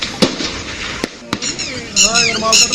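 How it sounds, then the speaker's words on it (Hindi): Gunfire traded between police and gunmen in a town about 10 km from the Pakistan border: sharp bangs at roughly 0.2, 1.0 and 1.3 seconds, with voices and shouting underneath and rising toward the end. "देखिए जरा, दोनों तरफ से फायरिंग हो रही है।"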